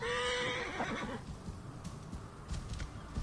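Horse in the video game Assassin's Creed Origins, set in ancient Egypt, gives a loud close whinny at the start, followed by hoof clip-clops and faint ambient game sound.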